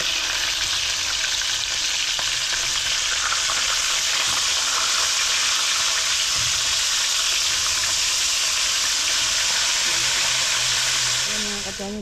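Food fries in a pan with a loud, continuous sizzle and hiss of hot oil that holds steady throughout, with a faint voice briefly in the background.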